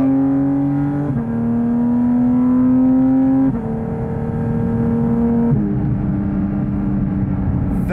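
A Porsche GT4 RS engine screams through rising revs while driving, with sharp drops at each gear change. It is loud and continuous from inside the car, with no speech.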